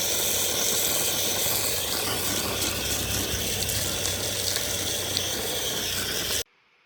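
Degreaser sprays steadily onto a dirty tractor in a continuous loud hiss that lasts several seconds before cutting off abruptly.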